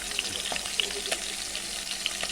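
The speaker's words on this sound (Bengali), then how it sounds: "তো মাছটা প্রথমে ভেজে নেব" Tilapia fish fries in hot oil, giving a steady, close sizzling crackle with small pops throughout and no talking.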